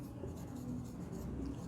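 Pen or pencil writing out a maths solution for a surface-area problem gives a faint, steady scratching at close range, under a voice speaking.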